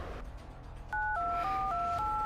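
Telephone keypad tones beep in a quick series of steady two-pitch chirps, each changing pitch as different keys are pressed, with no talking.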